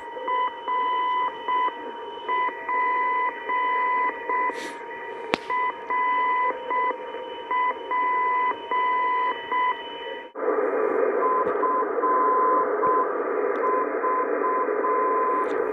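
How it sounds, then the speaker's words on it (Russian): A Russian navigation beacon in the Nizhny Novgorod region, transmitting at 960 kHz, is received on a shortwave receiver with a T2FD antenna in a winter forest. Its steady keyed tone pulses in a regular on-off pattern over hiss, then gives way to louder, even static. "А вот другой приводной маяк на 960 кГц, тоже наш, из Нижегородской области,"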